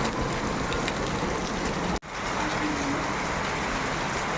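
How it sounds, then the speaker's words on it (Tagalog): Steady, dense hiss of heavy rain pouring continuously, with a momentary cut in the middle. "nabutan tayo ng malakas na ulan"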